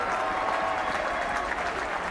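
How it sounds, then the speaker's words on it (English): Sustained applause from spectators at a 2007/2008 LSJC rugby final as a substituted player leaves the field, steady and dense throughout with no pauses. "To warm applause, and well deserved it is too."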